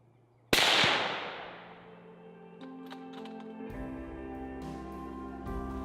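A single sharp rifle shot fired at a muntjac buck in English woodland cracks loudly and rings out into a long fading tail. Faint rustling and low tones follow.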